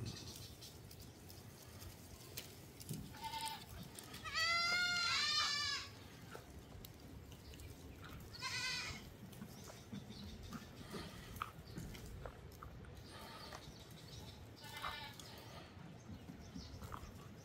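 Goats on a farm bleat several times over quiet outdoor background noise, with one loud, wavering bleat up close in the middle and a few shorter, fainter calls before and after.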